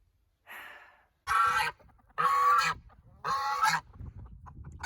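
A goose honks in three loud, harsh bursts spaced about a second apart, preceded by a softer breathy call, close by on a quiet homestead with no talking.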